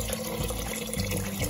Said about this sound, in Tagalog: Damihan lang po yung tubig